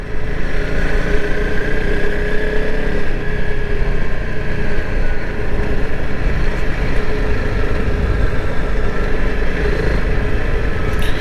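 A 2021 Honda CRF 300L Rally motorcycle running steadily at riding speed, a continuous engine drone with wind and road noise that stays at an even level throughout, without speech.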